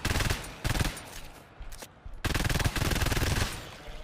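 Rapid automatic fire from a deployed sentry turret in a sci-fi shooter game, loud sustained bursts with a short pause in the middle, no talking.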